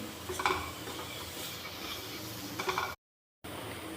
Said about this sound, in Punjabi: ਚੰਗੇ ਤਰੀਕੇ ਨਾਲ ਇਹਨੂੰ ਆਪਾਂ ਮਿਕਸ ਕਰ ਲਾਂਗੇ ਤੇ 1 ਮਿੰਟ ਦਾ ਆਪਣੇ ਮਸਾਲੇ ਨੂੰ ਸੇਕ ਲੱਗਣ ਦੇਵਾਂਗੇ